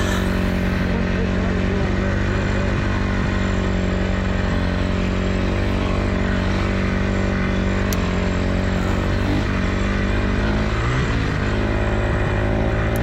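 A Honda CRF450R 450 four-stroke dirt bike converted to a snowbike with a track system runs steadily, a loud continuous engine drone with harmonic hum, close and unbroken throughout.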